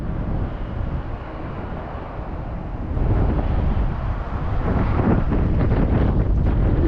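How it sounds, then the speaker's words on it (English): Cold, blustery wind buffets the microphone at Lake Douglas near Kalgoorlie, a loud continuous rumble that strengthens partway through, with no one speaking. "it's a bit cold and blustery"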